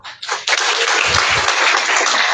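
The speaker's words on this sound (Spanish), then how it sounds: "Pero ya le dieron un aplauso." Audience applause at a book presentation for a volume on two hundred years of independent Mexico, a dense, loud, steady wash of clapping from a full room that swells quickly and holds throughout.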